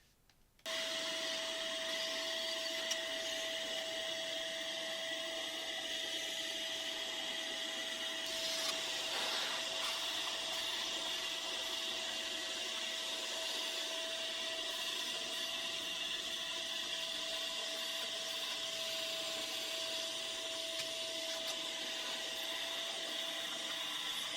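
A dog grooming vacuum motor switches on and runs with a loud, steady whine and roar, continuing without a break.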